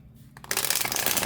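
A tarot-size card deck being shuffled by hand, a brief riffling burst that starts after a short pause and continues steadily at close range, with no talk.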